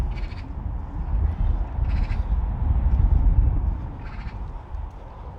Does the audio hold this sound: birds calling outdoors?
yes